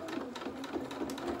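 A domestic sewing machine stitches a seam on doll-sized shirt fabric, its needle thumping in a quick, steady rhythm of repeated strokes, close and fairly quiet.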